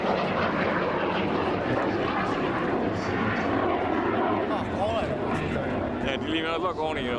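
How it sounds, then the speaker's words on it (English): A propeller aircraft derived from the T-34 trainer flies past at an airshow, its engine drone loud and continuous, with a crowd and a commentator talking underneath. "This other aircraft were manufactured based on the T-34."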